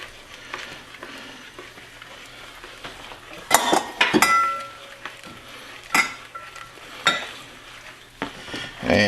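Liquid mixture being stirred into potatoes in a pan for German potato salad as it thickens, with scraping and clinking of a utensil against the pan, bursts of sizzling, and occasional louder metallic clinks.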